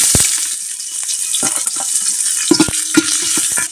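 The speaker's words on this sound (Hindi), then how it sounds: "तो इसमें हम डाल देंगे प्याज" Onion added to hot oil in a pot with bay leaf and garam masala for aloo khichdi, a loud steady sizzle with several sharp clatters and scrapes of a spoon stirring, close by.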